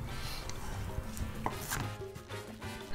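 A knife finely dices onion into small cubes on a board, making a steady run of quick, soft chopping taps with a few sharper knocks, close by and with no talking.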